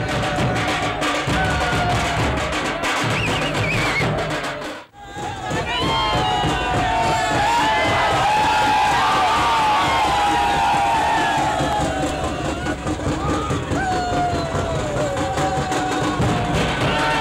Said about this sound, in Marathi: नितेश राणे आणि त्यांच्या कार्यकर्त्यांनी हा आनंद साजरा केलेला आहे